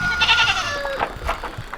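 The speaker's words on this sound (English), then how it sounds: "You talking about a mischievous little Nigerian dwarf billy goat" A Nigerian dwarf billy goat bleats in a few close, wavering cries, loud at first and then tailing off into softer broken calls.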